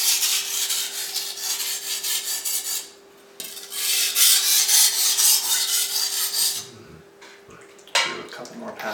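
Knife blade drawn across a coarse Wusthof whetstone, loud gritty scraping strokes in long sustained passes, with a short pause and a faint hum underneath.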